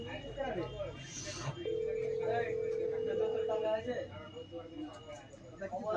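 A telephone call rings out unanswered: one long, steady ring tone holds for about two seconds, with voices talking in the room and background noise throughout.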